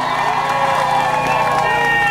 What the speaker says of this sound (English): Round of applause for Lamis.